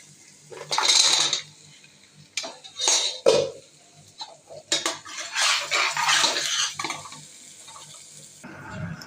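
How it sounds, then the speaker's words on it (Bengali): Rice and lentils are tipped into a metal pot for vegetable khichuri, giving several bursts of rattling, clinking pours with pauses between, close and fairly loud, with no talk. "চাল আর ডালটা ঢেলে দিব।"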